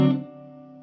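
A single electric guitar chord rings through a Vox AC15C tube amplifier with its reverb on, struck loudly and then sustaining and fading over less than a second, with no voices.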